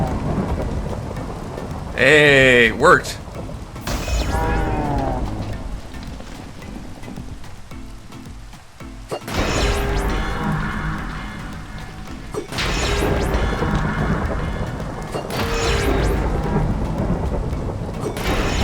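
Thunder rolls and crashes through a Minecraft thunderstorm, with steady rain hissing underneath and several loud booming rumbles spread across the stretch; a voice briefly exclaims near the start.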